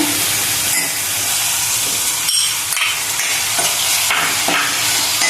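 Spice paste frying with tomato in a pan, a constant loud sizzle and hiss with occasional scraping stirs of a utensil against the pan, no talking.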